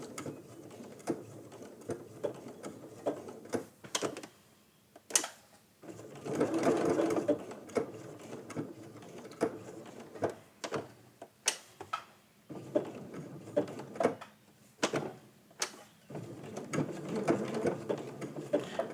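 A sewing machine stitches raw edge applique in quick, faint runs of rhythmic ticking, with short pauses and sharp clicks between bursts of stitching.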